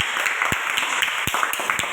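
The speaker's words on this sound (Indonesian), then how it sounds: "tepuk tangan kita semua" Children in a classroom clapping together, a loud, close burst of many small hands with a few sharper, roughly rhythmic claps standing out.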